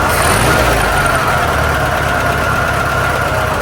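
A 1972 VW Super Beetle engine runs loud and steady throughout, a dense rough idle close by with no break or talk.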